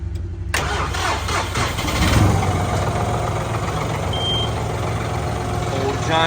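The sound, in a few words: tractor engine starting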